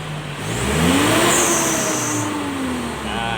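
A Mitsubishi Triton DI-D with a 4D56 common-rail diesel engine, showing fault code P0089, revs up loudly nearby, its pitch climbing and then easing back to a steadier hum.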